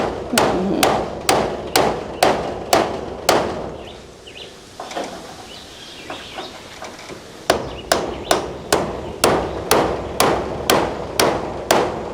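Nails are hammered into a roof, with sharp, evenly spaced blows close by in two steady runs separated by a quiet pause before a hurricane.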